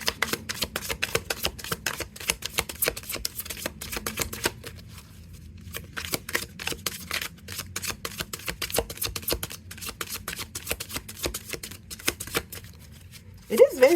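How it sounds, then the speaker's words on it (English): Rapid, continuous riffle of playing cards being shuffled overhand, crisp repeated slaps and flutters close by, with a brief pause midway and a voice at the end. "It is very satisfying though when I overhand shuffle."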